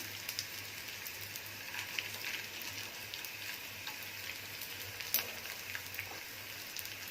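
Edible gum (gond) frying in a pan over very low heat and stirred with a ladle, giving a faint, steady hiss and crackle like light rain, with one small clink, close and without voices.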